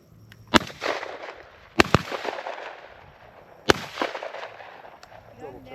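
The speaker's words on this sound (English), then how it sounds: "That third shot was so unnecessary." Shotgun blasts during a dove hunt: three sharp, loud reports, two close together near the start and a third a couple of seconds later, each with a rolling outdoor echo.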